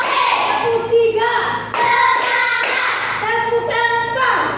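Rhythmic 'tepuk semangat' spirit clapping in an Indonesian classroom: a handful of sharp hand claps land at uneven intervals over loud, sustained chanting voices, close and bright.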